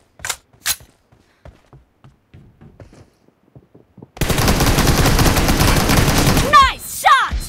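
Video game gunfire during a team match: after a few seconds of quiet, a dense, loud burst of rapid shots runs continuously for about three seconds, followed by a couple of sharp whooshing sweeps.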